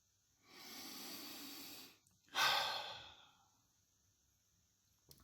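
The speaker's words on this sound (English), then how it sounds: "Let's all close our eyes, take a nice deep breath." One slow, deep breath, a long airy inhale and then a stronger exhale, close and alone, followed by quiet and a tiny click.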